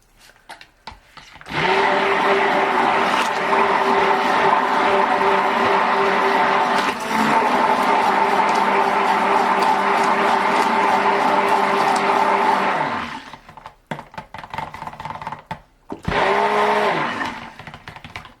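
Stick blender whirring steadily through black cold process soap batter colored with charcoal, a loud continuous motor drone broken by a brief pause, then stopping, with a final short burst after some handling noise.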